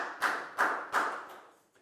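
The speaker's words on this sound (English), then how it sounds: "a big round of applause for Prau" Three sharp, evenly spaced hand claps ring out in a Year 4 classroom to applaud a student, each burst fading quickly, with no talking.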